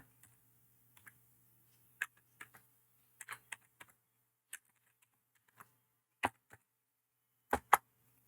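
Scattered keystrokes on a computer keyboard, a dozen or so sharp, close clicks in an uneven rhythm with quiet gaps, over a faint low hum.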